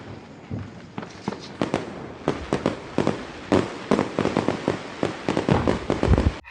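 Fireworks burst in a rapid string of sharp booms and crackles, several close and loud, with little pause between blasts.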